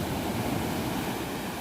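Calm sea surf rolling onto Kaputaş Beach in Turkey, a steady broadband wash of water, close and continuous, with no voices.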